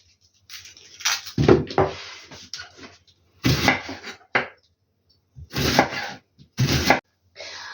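Kitchen knife cutting a flat onion into quarter rings on a board: clusters of crisp chopping strokes in short bursts separated by pauses, close and fairly loud, with no talking.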